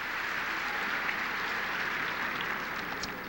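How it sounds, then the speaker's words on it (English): Tennis spectators at a 1989 women's match in the Detroit area give a sustained, even round of applause, a dense crackle of clapping hands heard from a distance with no talk over it. "Good hand from the crowd too."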